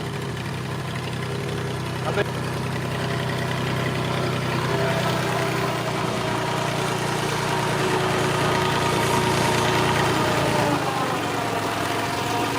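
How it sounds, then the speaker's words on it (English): An old tractor's engine runs steadily at a low idle-like pace, a close continuous rumble with a faint knocking texture throughout, while someone talks over it during stump removal work. "wherever I go on this tractor, I go slow."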